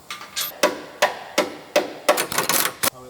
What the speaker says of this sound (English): That's good hammering.